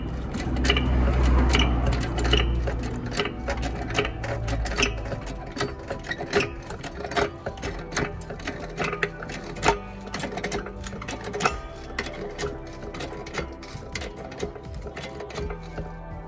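Mechanical ratcheting and clicking of a car jack raising an Alfa Romeo Giulietta, steady and close, with a heavier grinding start that settles into repeated small clicks and knocks.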